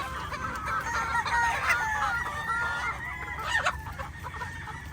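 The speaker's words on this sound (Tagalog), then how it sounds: "Mga chicks. Stag na yung dating." Young gamefowl stags cluck and give squeaky, half-formed crows, several birds overlapping in a steady chorus at moderate distance with a faint background rumble.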